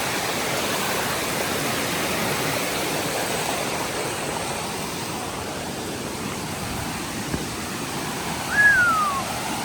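A small waterfall in a forest pours with a continuous, even rush of water close by. A brief higher squeak or call is heard near the end.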